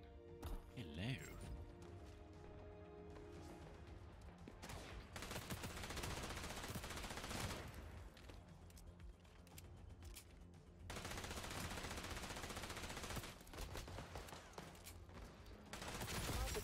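MP7 submachine gun fire in the shooter XDefiant, rapid automatic bursts and fusillades in sustained stretches with short pauses, loud and close, with people talking.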